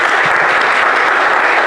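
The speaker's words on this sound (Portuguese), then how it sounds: "uma linda salva de palmas." Loud, dense applause from a church congregation during a worship service, continuous clapping with no gaps or voices over it.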